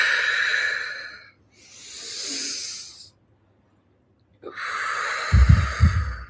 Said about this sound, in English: Big breaths into the belly.